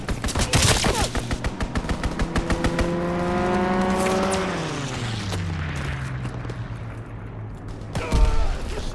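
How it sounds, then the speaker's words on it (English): Enemy aircraft strafing run in the Call of Duty WWII video game: rapid bursts of machine-gun fire, then a loud engine roar that rises and falls in pitch as the plane sweeps past, followed by more gunfire. "Enemy strafing run inbound"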